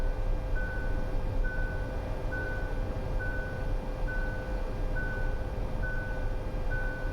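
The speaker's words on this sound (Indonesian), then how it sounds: "ketika kita tidak memegang, dia akan muncul warning yang lebih keras lagi suaranya" A Hyundai Creta Prime sounds its hands-off steering warning in the cabin: a clear, steady series of about eight evenly spaced electronic beeps, one roughly every second, over a continuous low road and engine drone.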